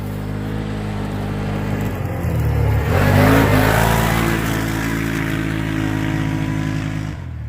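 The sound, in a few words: Can-Am Outlander XMR ATV engine during high-speed cornering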